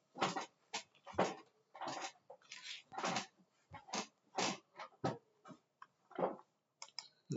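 Dogs whimper and whine in a rapid string of short, high, close bursts, with no talking.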